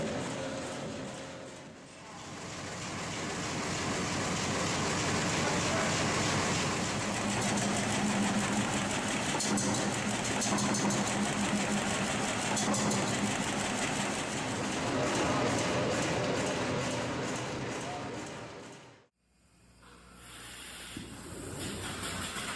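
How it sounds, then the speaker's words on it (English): A vintage Nordberg radial diesel engine from 1947 runs with a steady hissing, chugging drone for almost twenty seconds, then cuts off abruptly into near silence. "The Nordberg radial engine,"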